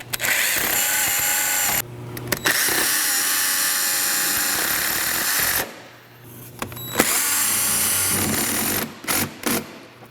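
A power drill drives screws to attach a truck mud flap, sounding in loud, close whirring bursts. Two long runs are broken by brief pauses and a few short stop-start pulses near the end.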